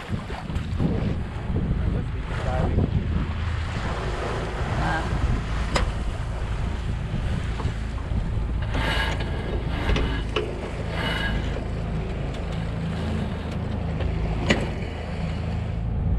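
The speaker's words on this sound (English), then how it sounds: "We've got enough wind, we can sail right in" Sailboat under sail in steady wind heading toward anchorage near Tofino, with constant wind buffeting, rushing water and hull noise throughout, brief louder gusts and splashes, and faint voices underneath.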